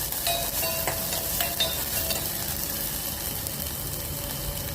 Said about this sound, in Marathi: आलं लसूण कढीपत्ता घालणार आणि हलवून घेणार